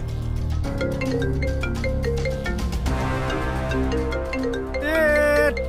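A melodic electronic ringtone plays continuously over a steady musical backdrop, repeating its chiming phrase, with a brighter warbling burst near the end.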